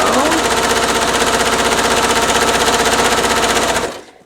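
A sewing machine stitches quilt strips together with a quarter-inch seam, running loud and close in a fast, steady mechanical rattle for nearly four seconds before stopping abruptly.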